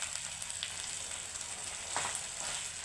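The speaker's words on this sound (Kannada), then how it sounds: "ಇಷ್ಟನ್ನು ನಾವು ಸ್ವಲ್ಪ ಫ್ರೈ ಮಾಡ್ಕೊಳ್ಳೋಣ." Gobi manchurian ingredients frying in a pan with coriander leaves, giving a steady, close hiss of sizzling oil, with faint stirring scrapes and no talking.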